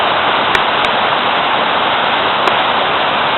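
Water pours over rocks at Kamaniskeg waterfall in a loud, dense, unbroken rush that fills the whole short stretch with no voices.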